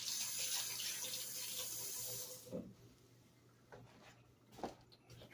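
A tap runs hard over a sink for about two seconds while a spoon is rinsed beneath it. The water then cuts off, leaving a few faint clinks and small handling noises in a kitchen where cornbread dumplings are being made.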